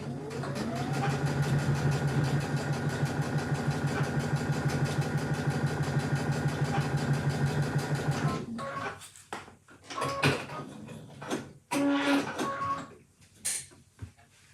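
A sewing machine stitches a quilt block in a steady, fast-pulsing run for about eight seconds, then stops, leaving scattered soft handling clicks and rustles.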